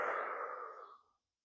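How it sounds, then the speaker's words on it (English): A single long, breathy rush of air from an open mouth, close and soft, fading out after about a second into silence. "we're going to breathe in through the mouth"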